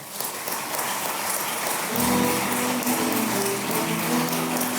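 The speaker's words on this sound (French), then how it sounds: "on applaudit Pierre Sévigny" An audience at a Chaudière-Appalaches recognition event applauds Pierre Sévigny with a dense, steady wash of clapping that holds at an even level, while a musical tone enters about halfway through.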